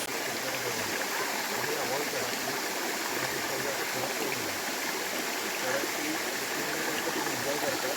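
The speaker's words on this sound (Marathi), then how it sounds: "असा जंगलाच्या मधोमध आहे वॉटरफॉल फुल नॅचरल" A natural waterfall in the middle of a forest roars in a steady, dense broadband rush that stays constant and close throughout, with no voices over it.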